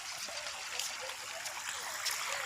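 Stream of water flowing at a village waterfall in Mirzapur, India: a steady, broad rushing trickle and splash that holds even throughout, with no voices.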